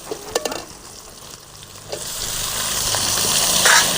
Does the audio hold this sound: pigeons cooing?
no